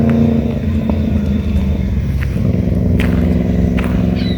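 A car driving along a road near a lighthouse at sunset, with steady engine and road rumble continuing at an even level throughout, close and fairly loud.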